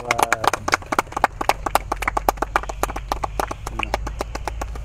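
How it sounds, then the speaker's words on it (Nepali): An audience at a live Fagu Purnima show in Kudan claps steadily to welcome a senior officer, with a dense, rhythmic run of hand claps that stays loud and close throughout. "ल ताली बजाइदिउँ"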